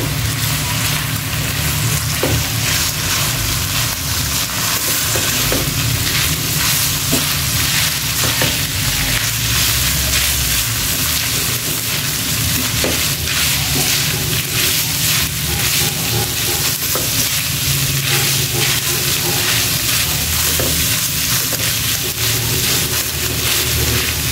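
Chicken pastel mixture with soy sauce and pepper sizzles steadily in a frying pan while being stirred, a continuous loud crackling hiss with faint intermittent scraping throughout.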